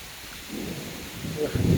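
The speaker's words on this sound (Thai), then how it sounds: "ฟ้าผ่าฟ้าผ่าตัวฟ้าผ่านะครับ" A thunderstorm with heavy rain, with low rumbling thunder swelling and crackling toward the end over a steady wash of rain.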